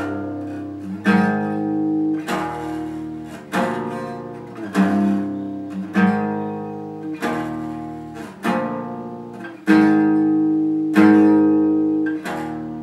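Electric guitar plays the lead riff from a song with a corrosive, distorted tone, sounding as a steady run of strummed, sustained notes repeating about every second and a quarter, loud and alone.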